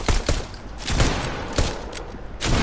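Close-range shotgun fire in Fortnite during a TF2-themed match, a handful of sharp, loud blasts spaced irregularly over a steady game-noise bed, with no talk.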